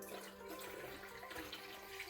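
Water pours into a crock pot that already holds oil while frankincense and myrrh incense and body oil are being made, a steady close splashing flow with no talking.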